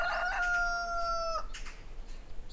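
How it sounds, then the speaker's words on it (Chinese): A hen crows like a rooster in one long, loud, drawn-out call that ends abruptly, followed by faint rustling background noise. "母鸡怎么打鸣了？"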